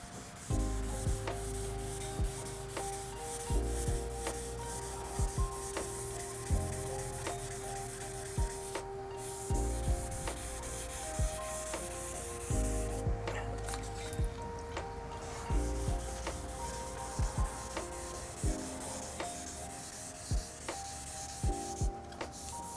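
Wet sanding a car's paint by hand: quiet, steady rubbing strokes repeating in a slow back-and-forth rhythm with a faint wet, gritty texture, close up and without talk.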